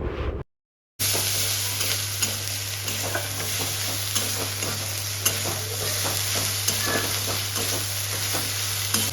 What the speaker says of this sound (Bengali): পেঁয়াজ, আদা, রসুন যে পেস্টটা মা করেছিল সেইটা এবার দিয়ে আবার ভালো করে নেড়ে নিচ্ছে।